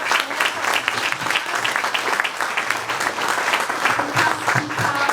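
A live audience at a book launch applauds to welcome the speaker, steady dense clapping held throughout at full volume with no talking over it.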